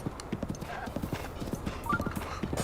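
Hooves of a horse clip-clop steadily in a Zelda video game, a quick, even rhythm of close, crisp hoofbeats with a voice talking faintly underneath.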